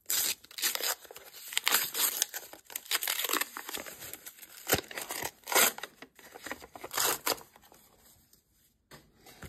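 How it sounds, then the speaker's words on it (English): A mail envelope opened by hand, with steady ripping of paper and crinkling of packaging up close, bursts of tearing and rustling that pause briefly near the end. "I'm gonna be opening it with some scissors or just my hands"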